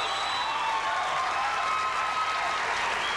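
A studio audience at a late-night talk show applauds, a dense, steady wash of clapping that holds at full strength throughout, loud and close with no voices over it.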